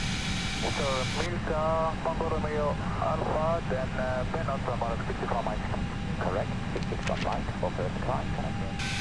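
An Airbus airliner's engines climb toward cruise altitude in the Airbus X Extended flight simulator, giving a constant low drone beneath someone talking throughout.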